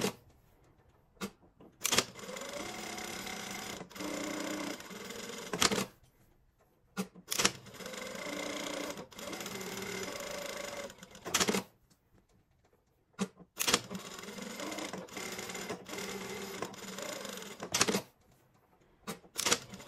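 A sewing machine topstitches a shirt placket in three long runs of fast, steady rattling stitches, close and clear, with mechanical clicks and quiet pauses between runs.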